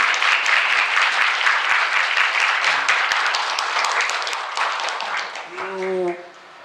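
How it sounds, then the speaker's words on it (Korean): Warm applause rises from the audience at a community book concert honoring a group of local authors, a thick, sustained clapping that thins toward the end as a voice begins to speak. "저 박수 한번 드리도록 하겠습니다."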